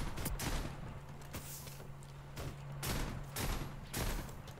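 Video-game gunfire in WorldBoss cracks out in a quick series of sharp shots with uneven gaps, loud and close. A steady low hum runs underneath.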